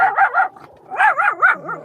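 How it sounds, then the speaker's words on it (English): Dogs bark repeatedly inside a car near the window, a close, loud series of sharp barks in two bursts with a brief pause between them. "What are they barking at? Barking at the window."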